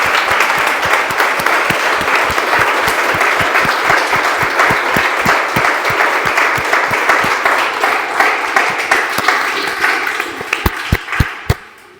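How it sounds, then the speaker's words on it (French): The audience at a Cannes Film Festival round table on post-#MeToo film production applauds, a loud, dense, continuous burst of clapping that tapers into a few last isolated claps. "je voudrais qu'on vous applaudisse et qu'on nous applaudisse collectivement"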